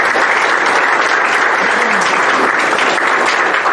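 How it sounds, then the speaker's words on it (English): Loud, dense audience applause at a township board of supervisors meeting, honouring supporters of a concert series, sustained evenly from start to finish. "let's have a round of applause for all the people who helped support the concert series"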